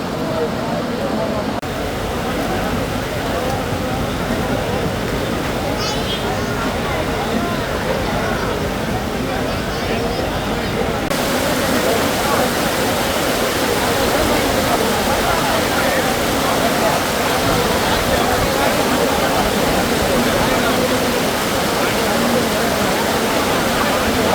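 Floodwater rushes loudly and continuously through flooded market streets during heavy rain in Nakhtrana, Kutch, a dense steady roar of churning water, with faint voices mixed underneath.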